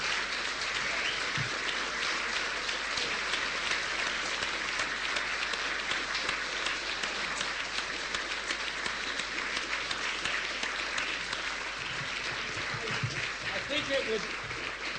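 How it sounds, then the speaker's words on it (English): A debate audience applauds steadily and evenly, a dense sustained wash of clapping from many hands that fills the whole stretch without pause, with a few voices faintly mixed in. "Now you can stand up and applaud"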